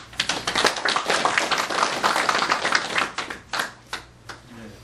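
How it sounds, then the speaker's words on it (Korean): Members gathered at a Korean Confucian academy restoration meeting clap together in a short burst of close, sharp claps that thins to a few scattered hand claps before fading out. "박수 한번 쳐주세요."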